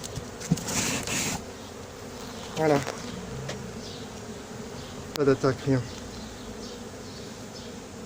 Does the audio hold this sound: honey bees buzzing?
yes